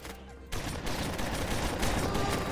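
Rapid gunfire crackles in a Left 4 Dead firefight, a dense continuous burst of shots that starts abruptly and stays loud throughout.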